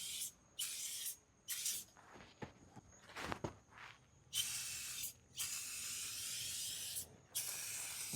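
Chemical Guys ShineLogic tire shine sprayed from a trigger bottle in about five sharp hissing bursts of uneven length, separated by short pauses, close and clear with faint handling noises between sprays.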